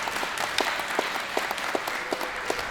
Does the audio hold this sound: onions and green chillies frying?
no